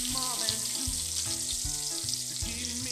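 Bacon frying in a Lodge cast iron skillet gives a steady, close hiss and crackle that runs throughout, with tonal background sounds layered underneath.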